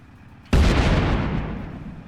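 A single loud, close tank cannon blast in fast reload mode in the video game Armored Patrol, a sudden boom that rolls off into a long rumbling decay.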